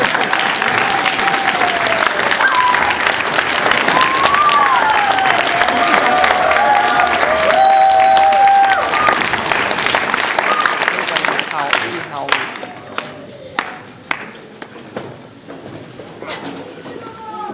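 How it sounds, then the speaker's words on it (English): An audience at a Cub Scout Court of Honor ceremony applauds and cheers loudly and continuously, with birdlike whistles and voices mixed in, before the clapping thins into scattered individual claps. "Stand and applaud, please."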